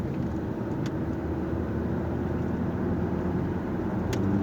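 A VW Passat with a 1.4 TSI 122 hp CAX engine and a faulty ignition coil runs under load in sixth gear, giving a steady, loud engine and road drone inside the car with a couple of brief jolts, with no clear stumble standing out.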